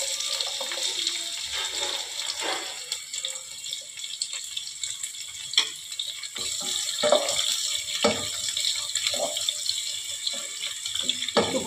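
Chopped onions fry in hot oil with whole cloves, cardamom, cinnamon and nutmeg for a Bengali chicken kosha, giving a steady hiss with scattered clicks and spatula taps throughout, close and moderately loud.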